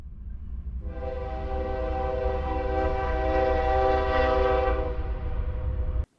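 A train horn in the video game Satisfactory sounds a loud, sustained, harmonic blast of about five seconds over a low rumbling engine, then cuts off abruptly, with no voices present.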